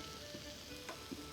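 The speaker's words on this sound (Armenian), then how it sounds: "տապակվում է նաև սոխը" Onion frying in a very hot pan, giving a steady, fairly faint sizzle with a few soft stirring clicks and no voices.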